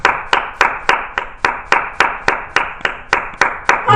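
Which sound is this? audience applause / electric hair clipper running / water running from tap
audience applause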